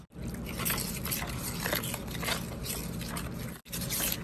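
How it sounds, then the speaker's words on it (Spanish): Seasoned batter for fried chicken being mixed with added water, giving a continuous wet squishing, sloshing sound close by with a brief pause near the end. "Aquí ya estamos mezclando y vamos a ir agregándole agüita"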